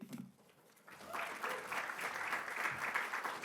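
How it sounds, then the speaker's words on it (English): Audience applause at a HealthTech showcase event in London, a soft patter of clapping that swells after a brief quiet start and continues steadily at moderate distance. "let's have another round of applause for Russ, everybody"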